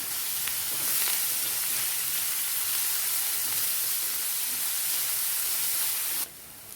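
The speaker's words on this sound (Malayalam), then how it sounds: "ഒരു മീഡിയം സൈസിലുള്ള 2 സവാള നമുക്ക് വഴറ്റാനിട്ട് കൊടുക്കാം." Two medium onions and a sprig of curry leaves sauté in hot oil for an egg masala curry, giving a continuous, even sizzling hiss that cuts off abruptly near the end.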